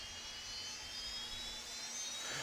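Business jet engine spooling up and stabilizing in a home-cockpit flight simulator, a steady high-pitched turbine whine with low rumble, faint and continuous with no talking.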